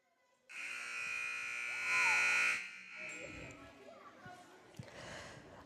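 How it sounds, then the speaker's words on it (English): A very loud electronic buzzer sounds at an adapted wheelchair football game, Muscogee Lions hosting Fulton Atlanta Wolfpack: a steady harmonic tone of about two seconds, swelling near the end, then cutting off into quieter gym noise. "we're about to have a very loud buzzer"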